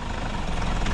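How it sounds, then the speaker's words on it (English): A steady engine runs loudly and continuously, rumbling and rising slightly toward the end as it revs, with no voices. "give it some revs and then go"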